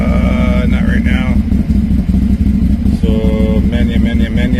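2020 Can-Am Maverick X3 Turbo RR side-by-side engine held at raised revs, a loud steady mechanical drone with clutch clatter, shifting tones and a voice speaking over it.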